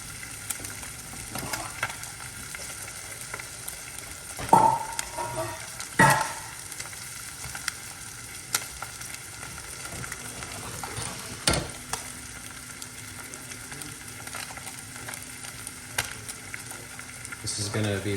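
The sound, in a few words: fish searing skin side down in a pan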